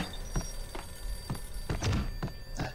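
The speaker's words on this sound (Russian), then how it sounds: "Так, кто-то звонит." A telephone rings inside the video game Max Payne, a thin repeating ring under a run of dull thumps and knocks at moderate level, with no speech.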